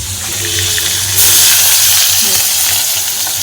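Freshwater fish such as rita, baim, bele or moya hisses loudly in hot oil in a pan, the sizzle swelling and staying strong after the fish goes in, with a low hum underneath.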